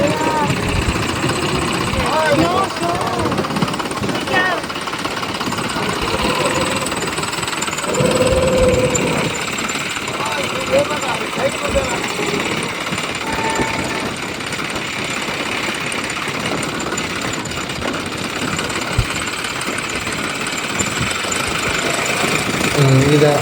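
A car stuck in sand on Chirala beach at night revs steadily in reverse with light clutch, a continuous mid-pitched engine drone that stays loud throughout, with people talking over it.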